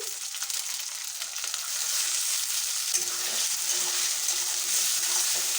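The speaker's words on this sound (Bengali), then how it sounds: "সবগুলো একসঙ্গে ভালো করে ভেজে নেব" Shrimp rubbed with salt and turmeric fry in a pan with ginger paste, a loud, steady hissing sizzle up close that grows fuller partway through, with no talking.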